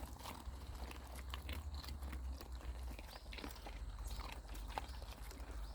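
Several dogs crunch on dry hardtack biscuits outdoors, a steady run of close, irregular crunching and chewing clicks with no talk.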